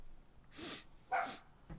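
A dog barks twice in short, separate bursts at moderate distance, fairly soft, with no talking over it.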